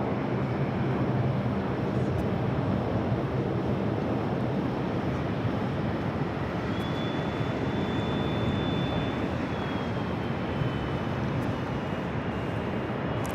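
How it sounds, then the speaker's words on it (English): A JetBlue Airbus A320 taking off on runway 13 right at JFK, a loud, steady broadband engine roar that fills the whole stretch, with a faint high whine rising midway, and no talk. "JetBlue flight 2709 with A320 taking off on runway 13 right."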